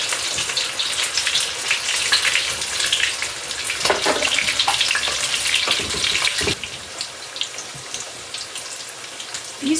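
Corn fritters and halibut frying in hot oil: a loud, dense, continuous sizzle and crackle, close by, with a few louder spits midway and no talk.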